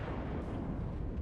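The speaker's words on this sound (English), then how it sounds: "I want to finish him off with my back guns" Rear guns of the North Carolina battleship fire in World of Warships, a heavy, continuous booming rumble that fills the whole moment, loud and close with no talking.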